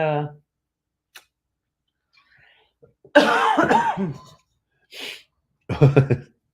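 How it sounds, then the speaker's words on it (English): A few heavy, wet coughs with thick, clear mucus, after illness, come in separate bursts after a quiet stretch, close and fairly loud in an otherwise silent room. "I have a horrible cough after being sick. Thick, clear mucus cough."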